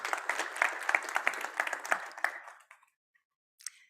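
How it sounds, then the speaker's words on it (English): Audience applause for a startup team at an innovation awards final, a dense burst of many hands clapping that fades out after about two and a half seconds, followed by near silence and a brief faint tail. "Let's give another round of applause for Stella Apps Technologies."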